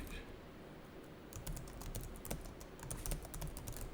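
Keys clatter on a computer keyboard in quick, irregular bursts, soft and close, with a few firmer presses like the enter key standing out over a quiet room.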